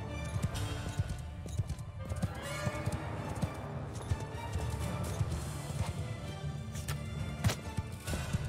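Horses gallop in the medieval battle game Mount & Blade 2 Bannerlord, a continuous rumble of rapid clip-clopping hooves from many mounts, loud and close, with faint clatter of battle around them.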